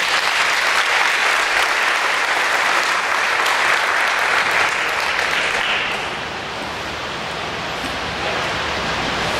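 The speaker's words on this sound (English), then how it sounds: "Let's give him another applause." Dense, loud applause fills an honors day ceremony hall, a continuous wash of clapping from a large audience that eases slightly in volume partway through.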